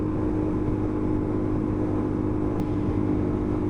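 A Suzuki DRZ400 motorcycle with a noisy exhaust and a flat-slide Mikuni carb drones steadily and loudly while pulling at speed, a constant engine rumble with wind noise.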